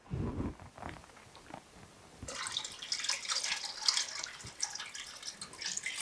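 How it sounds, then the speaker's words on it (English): Water poured into a pot of simmering bone broth with chicken feet, a soft splash and thud at first, then a steady, faint, hissing trickle that keeps going until the end. "I am gonna add a little more water."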